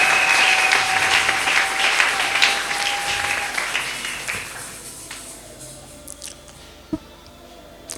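A church congregation applauding the Lord, a loud dense burst of clapping that gradually thins out and fades into a few scattered claps.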